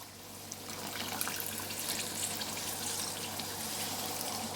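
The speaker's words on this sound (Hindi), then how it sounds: "तो अब मैं इसके अंदर ना पानी डालूँगी ताकि" Water pours steadily into a cooking pan to make gravy, a continuous watery splash and hiss that runs evenly throughout with no talking.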